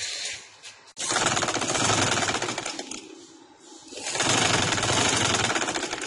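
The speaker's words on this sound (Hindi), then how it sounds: "अब मैं इसको थोड़ी सी इधर में सिलाई लगा लेती हूँ।" A sewing machine stitches suit fabric in rapid, loud mechanical bursts, running for several seconds, pausing briefly, then running again at a steady clattering pace.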